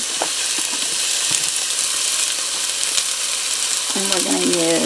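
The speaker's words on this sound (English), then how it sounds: "Okay, so the olive oil is heated up pretty good. We're going to put in our onions." Chopped onions hitting hot olive oil in a pan for a bean and collard soup, giving a loud, steady, close sizzle with a broad hiss and small crackles throughout, no talking.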